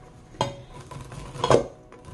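Two short scraping strokes of coco coir against a container, close up, with light clattering in between and a quieter scrape at the end.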